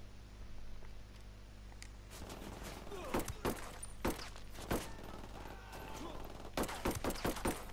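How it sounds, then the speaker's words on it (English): Pistol shots in the video game Ghost Recon Wildlands, several sharp isolated cracks spaced apart, then a quicker cluster of four or five shots, over a quiet droning background. "I want to take this guy out with a pistol"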